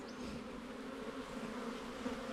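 Honey bees buzz around an opened hive, a steady, soft, close drone with no voices.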